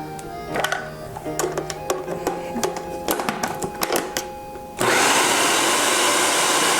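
A food processor pulses butter into nutbread dough. A few sharp clicks and clatters come first, then the motor kicks in with a loud, steady whirring roar that runs to the end.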